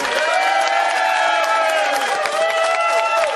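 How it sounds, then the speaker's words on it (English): A television studio audience cheers and applauds, producing a loud, continuous crowd roar with whoops over a bed of clapping that stays strong for the whole few seconds. "for now, give him a round of applause."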